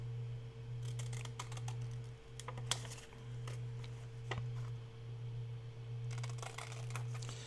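Scissors cut paper petals for handmade flowers, producing a series of short, crisp snips in irregular bursts over a faint, constant low hum.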